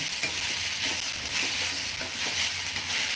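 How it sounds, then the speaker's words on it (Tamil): A mung bean curry mixture is stirred and sautéed in a pan, making a continuous close hiss and crackle with soft scraping strokes at a steady pace. No voices are heard. "நம்ம நல்லா வதக்கிடுறோம் இல்லையா"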